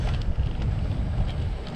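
Wind buffeting the microphone while riding a new road bike, a low rumbling roar that gusts unevenly throughout the short stretch, with no talking.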